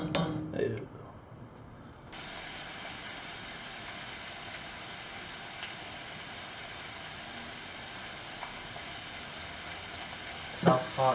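Fish sears in a hot pan for Vietnamese chao ca, a loud steady sizzle kicking in abruptly after a few clinks and continuing unbroken, with a brief clatter near the end.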